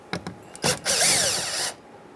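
A Phillips screw is backed out of the door trim of a 2007-2015 Mazda CX-9 with a power driver: a short whirring burst of about a second after a few light clicks and taps, close and fairly loud.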